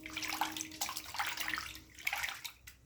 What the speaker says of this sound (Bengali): এবার আমি জল পাল্টে আরও 2-3 বার করে ধুয়ে নেব।